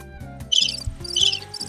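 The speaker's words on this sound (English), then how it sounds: "Crickets." Crickets chirp in two quick, bright bursts over a low, steady background hum.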